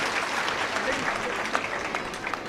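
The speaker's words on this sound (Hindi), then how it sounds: "एक बार जोरदार ताली के साथ स्वागत करो माथुर जी के।" An audience at a BJP beneficiaries' conference in Dhamtari claps loudly to welcome a guest, producing a dense, continuous burst of applause from a crowd that lasts a couple of seconds.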